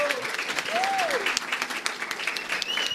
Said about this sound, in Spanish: les pido un gran aplauso para cerrar la mesa